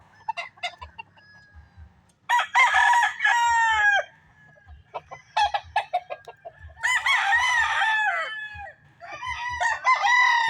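Young stag roosters on a gamefowl farm crow loudly in repeated bursts, several birds overlapping near and farther off, with soft clucks and quieter gaps between the crows.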